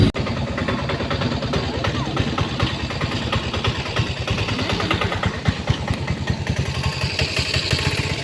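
On Vembanad lake a boat engine putters at idle with a steady low rhythmic chug, loud and near, while people talk over it.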